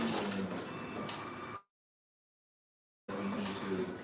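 An ID card printer whirs and hums as it feeds and prints a card, a steady mechanical drone cut by a brief silent gap before resuming.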